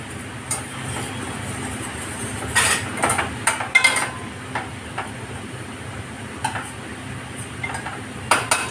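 Boiled white peas tipped into a pan of spiced gravy with amchur and stirred, giving scattered scraping and clinking bursts of a spoon against the pan over a steady low background, no talk.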